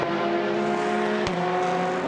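Race cars at the Monza circuit during the 2020 4 Hours endurance race, including GTE Porsche and Ferrari entries, roar past in a bunch. The engine drone is loud and steady, with one car's sharp pass in the middle.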